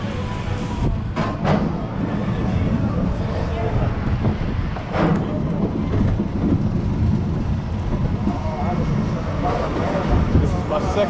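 Steel Eel roller coaster at SeaWorld San Antonio heard from the back seat, a continuous rumbling train roar buffeted by wind with occasional clacks, and voices shouting over it.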